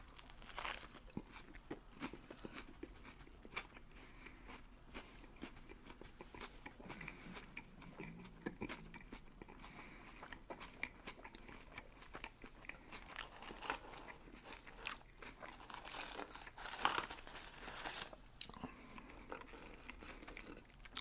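Whoppers malted milk balls being bitten and chewed close to the mic, a steady run of soft crunches and wet chewing without talk.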